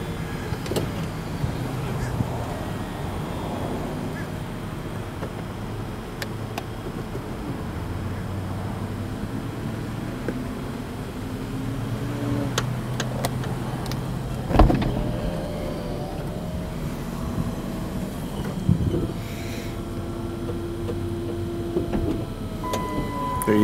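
Power convertible top of a 2008 Chrysler Sebring raising, a long steady electric motor whine with mechanical clicks and a couple of sharp clunks as the roof moves and latches, heard up close with some background noise.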